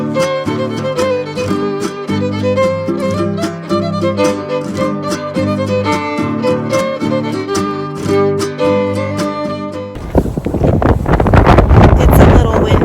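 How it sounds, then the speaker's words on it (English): Rhythmic music plays, then cuts abruptly to strong wind roaring and buffeting the microphone outdoors at 33°F with 25 mph winds for the last few seconds. "It's a little windy."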